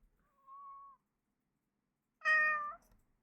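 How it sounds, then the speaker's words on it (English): A house cat meows twice: a thin, drawn-out first cry, a pause, then a louder, fuller second meow, close by with silence around them. "I've got a cat trying to get in my lap."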